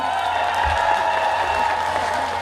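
At a trot concert on an outdoor festival opening stage, the crowd claps steadily for a singer, a dense, sustained roar of applause with stage sound humming underneath.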